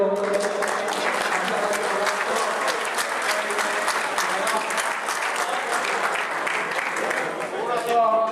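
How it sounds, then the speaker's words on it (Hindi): Audience applause at an Eid 2016 Pothohari program in Dammam, loud continuous clapping from a crowd filling the whole stretch, with some voices and music tones mixed in beneath it. "दोस्तों एक बार सबके साथ सामने आने तालियां मारी करो।"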